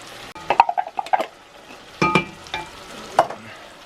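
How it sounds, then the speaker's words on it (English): Ground meat and canned Bush's baked beans stirred in a hot cast iron pan for chuckwagon beans, with a soft sizzle under several sharp scraping and clinking strokes of a utensil, close and without talk. "Go ahead and throw in a can of Bush's baked beans."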